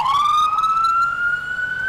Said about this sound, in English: Wishard ambulances are big and loud.